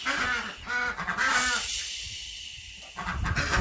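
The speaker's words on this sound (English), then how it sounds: "those ducks are really loud." Ducks quack loudly and repeatedly in a rapid series, pause briefly, then start calling again up close.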